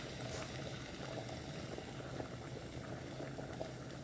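Steady low bubbling of a thick meatless tomato sauce with added water simmering, a dense continuous gurgle with small pops, close and fairly quiet, no voices.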